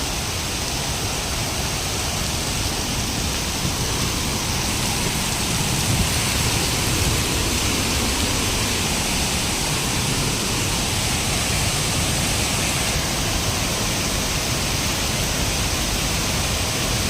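At the Manudevi temple grounds in Yawal, a flooded waterfall swollen by heavy monsoon rain roars as a dense, unbroken wash of rushing water, loud and steady throughout, heard from a distance with no voices.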